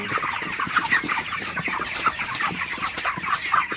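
Broiler chickens cluck steadily in a hot poultry shed, many birds close by producing dense overlapping clucks and squawks throughout, with no talking.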